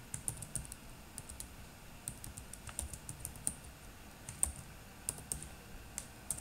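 Quiet typing on a computer keyboard, a steady scatter of soft, close key clicks entering a name, with no talking.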